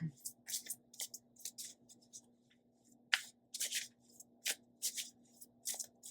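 Repeated crisp riffling bursts of playing cards being shuffled, in quick irregular clusters with short pauses, close and clear against a faint steady hum.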